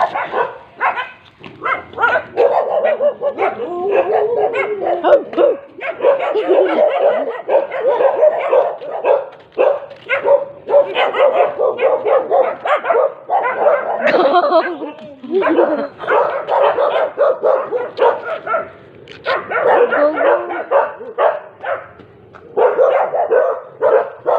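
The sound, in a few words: dog barking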